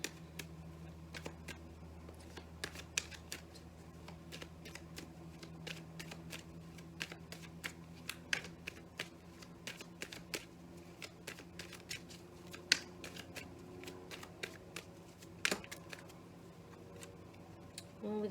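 A deck of Waite tarot cards being shuffled and drawn, faint quick ticking riffles and scattered card taps over a steady low hum, close and quiet.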